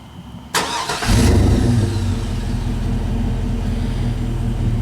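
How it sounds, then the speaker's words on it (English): A 2001 Chevy Suburban engine with a Flowmaster American Thunder dual exit exhaust cranks and fires up, settling into a deep, rumbling idle with a low throaty exhaust tone, close and loud. "that's my Flowmaster American Thunder dual exit exhaust system on my '01 Chevy Suburban"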